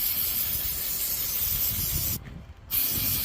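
A continuous hiss of an aerosol spray can of Hammerite paint coating metal rebars outdoors, briefly stopping for a moment before spraying resumes, close to the microphone.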